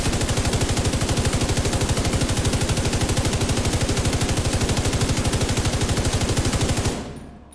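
Sustained automatic gunfire from a weapon in The Division 2, a rapid, steady stream of loud shots for about seven seconds during a recoil test, then an abrupt stop with a short fading tail.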